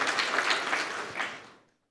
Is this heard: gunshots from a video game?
no